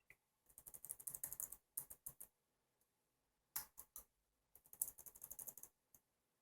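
Keys on an HP 6710b laptop keyboard, arrow and tab keys, click in quick bursts of crisp, close taps separated by short pauses.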